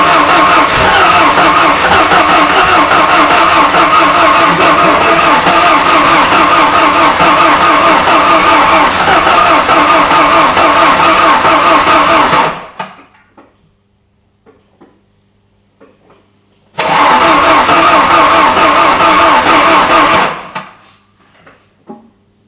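A 460 bhp Ford Sierra Cosworth engine roars loudly and steadily for about twelve seconds, cuts to near silence, then bursts back briefly before dying again.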